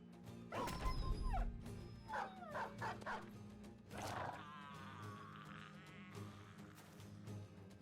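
Loud video game dog barking in Battle Brothers, several sharp barks and yips in quick bursts over a combat scene with crashes, followed by a steady tonal whine in the background.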